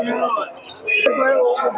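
Pigeons at a crowded rural pigeon market in Shantipur, Murshidabad, with Giribaz pigeons on sale, give off steady chirps and coos up close while loud market chatter and voices run underneath the whole time.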